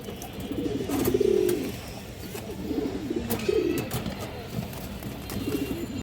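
Lively Army breed pigeons cooing up close in a few distinct rolling bursts, with quieter rustling and shuffling between the calls.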